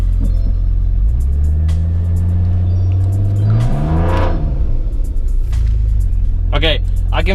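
A 2004 BMW 320i paddock basher's engine rumbles steadily as it creeps forward in drive, with a low droning note that rises and falls, heard from inside the car; people talk briefly near the end.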